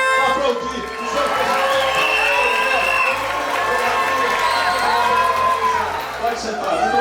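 Audience at a law school graduation ceremony rising and cheering, with loud mixed shouting, whoops and some clapping from a crowd, voices overlapping throughout.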